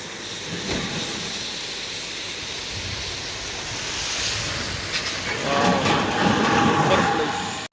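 Water flowing in a stream on an estate makes a steady, broad rushing roar close by, and a voice speaks over it near the end.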